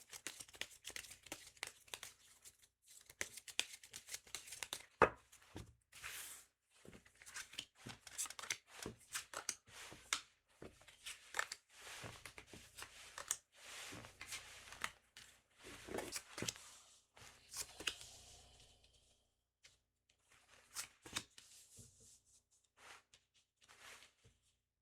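Tarot cards being shuffled by hand, with quick riffling flutters and soft slaps in irregular bursts, close and fairly quiet, pausing briefly between rounds.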